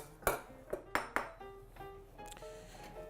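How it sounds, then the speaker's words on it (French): A spoon stirring citrus juice in a dish, several bright metallic clinks and pings against the dish, then lighter ringing taps, close and quiet with no voices. "Je remue."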